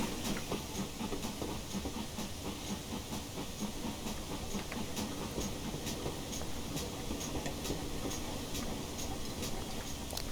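A GWR 6000 King Class 4-6-0 steam locomotive in Train Simulator Classic chuffs steadily under way, a dense continuous hiss of exhaust beats with rhythmic clicks, loud and close throughout.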